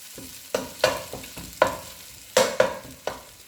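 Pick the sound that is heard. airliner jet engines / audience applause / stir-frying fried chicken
stir-frying fried chicken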